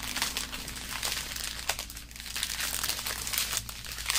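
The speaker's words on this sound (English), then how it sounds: "So I fold them in threes." Crinkly plastic diamond art bead packs being folded crackle and rustle up close in quick, irregular bursts with a few sharper crunches, no voices.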